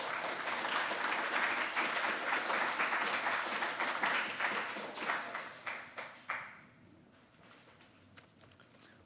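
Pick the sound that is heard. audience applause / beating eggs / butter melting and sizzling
audience applause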